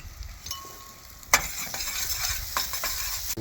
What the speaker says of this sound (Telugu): పుదీనా, అల్లం వెల్లుల్లి ఇది వేసి బాగా మిక్స్ చేద్దాం.